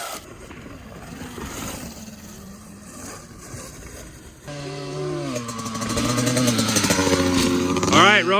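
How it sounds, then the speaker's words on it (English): Rawrr Mantis dirt bike engine on warm-up laps at a dirt bike race, a steady buzzing drone that grows louder and revs higher toward the end, with some talk in the first half. "he's gonna hit a couple warm-up laps on the Rawrr Mantis"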